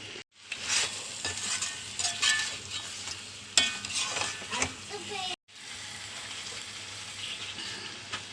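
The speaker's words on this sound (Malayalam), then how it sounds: "ഒന്ന് ഇളക്കണം, ഒന്ന് വേവണ വരെ." Onion chicken sizzles in a pan while a spoon stirs it with scraping, clinking strokes. The frying stays loud and close, breaks off for a moment, then resumes.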